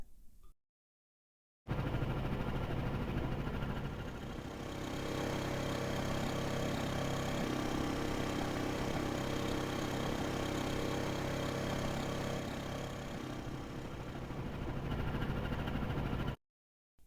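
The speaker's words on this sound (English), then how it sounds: "when we started accelerating, the idle engine sound faded out and the other one faded in" Engine sound effects in a browser animation, an idling loop crossfading into an accelerating engine loop, a steady continuous mid-low drone that swells slightly midway and stops abruptly at both ends.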